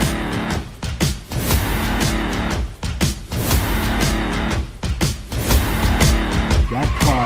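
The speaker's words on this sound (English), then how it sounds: "That car took off towards that airplane" Car engine roaring and tires squealing as it takes off toward an airplane, loud and continuous with harsh bursts throughout.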